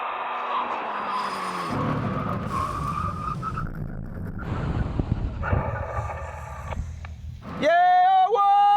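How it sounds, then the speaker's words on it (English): A Koenigsegg, a Tesla Plaid and a turbo Hayabusa brake hard from 100 mph: a passing engine roar gives way to a rumbling, shuddering stop, then a loud tire squeal rises sharply near the end. "we have a brake test from 100 miles an hour. When we reach the line, full emergency stop."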